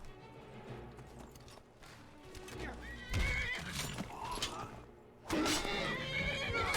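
A horse whinnies loudly twice in modded Skyrim Special Edition, each shrill neigh rising over hoofbeats and background clatter.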